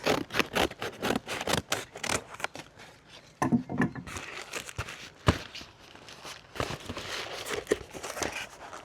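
Scissors snip and crinkle through protective wrapping material for small paintings, close and hands-on, with rapid irregular cuts, rustling and a few scrapes against a box, no speech.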